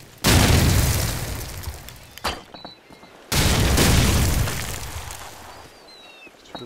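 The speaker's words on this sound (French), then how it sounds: "Sous le grenade là, ça va tomber." Grenade explosions in Call of Duty 4 on the Seatown map: two loud booms, each a sudden heavy blast that decays slowly, separated by a brief quieter gap with faint game sounds.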